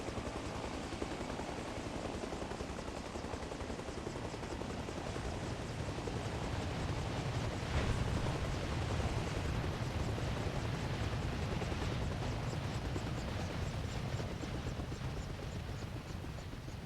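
A Little Bird helicopter in the video game Arma Reforger flies along, its rotor and engine making a continuous broadband whir with a faint rhythmic chop, steady throughout at moderate level with no talk.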